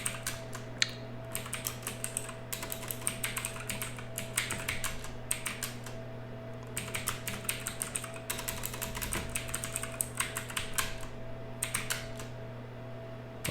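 Computer keyboard being typed on for a terminal command, a close, steady patter of quick key clicks in uneven bursts with short pauses, over a low electrical hum and no speech.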